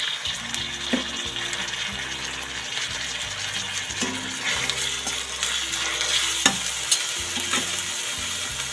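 Tomatoes frying in a pan for egg rice, a continuous sizzle with occasional utensil taps and scrapes, over a low, steady hum in the background.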